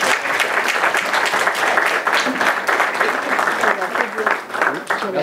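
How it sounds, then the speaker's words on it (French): A debating audience at a mock G7 summit applauds loudly and close by, dense overlapping claps sustained for several seconds, with a few voices mixed in underneath. "Je vous demande de bien vouloir applaudir, s'il vous plaît."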